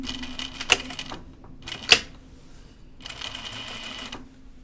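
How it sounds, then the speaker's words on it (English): Domestic sewing machine stitching in the ditch along a shoulder seam of a pajama top, running in steady bursts with a couple of sharp clicks and pauses between runs, fairly close and moderately quiet. "I'm going to pull it apart and do the stitch in the ditch."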